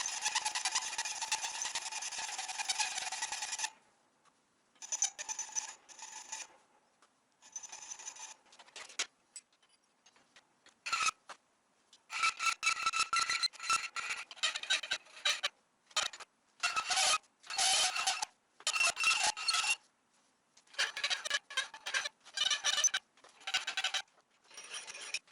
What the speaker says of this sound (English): Now is also the time to do any filing to relieve edges, improve the flow of curves